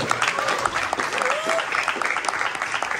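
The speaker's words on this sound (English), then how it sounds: "How about a round of applause for our moderator, Mr. Neto?" An audience at a congressional candidate forum claps steadily for the moderator, dense applause with a few faint whistles mixed in.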